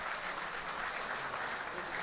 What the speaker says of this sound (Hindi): आप हजरात की ढेर सारी तालियों में इस्तकबाल